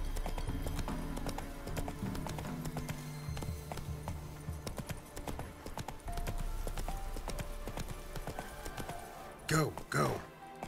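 Roach, the horse in The Witcher 3, gallops with a steady rapid clip-clop of hooves under game music and background noise, ending with a couple of loud snorts or whinnies near the close.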